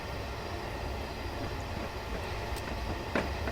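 A simulated train in Train Simulator 2015 rumbles steadily along the rails, a continuous low roll with faint clicks and a brief sharper clack near the end, no voices.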